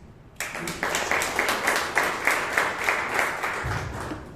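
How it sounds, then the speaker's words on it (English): Audience applause at a Toastmasters meeting in Bangalore bursts in and continues steadily, many hands clapping in a rhythmic, fairly close wash before tapering at the end. "Ladies and gentlemen, give an applause, please"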